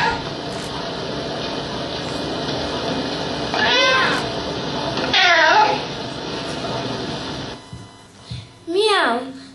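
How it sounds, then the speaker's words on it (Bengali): A cat meows three times, each a drawn-out, wavering cry spaced a couple of seconds apart, over a constant low hum. "মিয়াও মিয়াও শুনতে পাচ্ছেন তো?"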